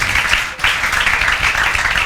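Dense applause from a classroom full of students, loud and continuous for about two seconds, with a brief dip near the half-second mark.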